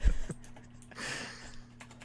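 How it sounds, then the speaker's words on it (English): Someone types on a computer keyboard into a Hangouts chat, producing a few scattered, faint keystroke clicks with a small cluster in the middle, alone in a quiet room. "You're typing this into Hangouts right now."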